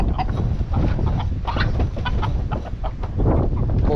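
Farm chickens clucking in a busy overlapping chorus, close and continuous, with many short calls from several birds at once.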